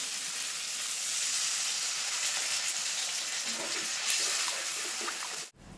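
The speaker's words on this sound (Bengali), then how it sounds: "এখন ঝোলের জন্য পরিমাণ মতো জল দিয়ে দেবো" Water gushes steadily and fairly close into a hot pan of capsicum and rohu fish curry, hissing and splashing for several seconds before stopping abruptly.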